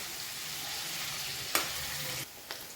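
Paneer cubes fry in butter in a kadhai over medium heat, a continuous broad sizzle with a sharp spatula scrape midway and another fainter clink near the end.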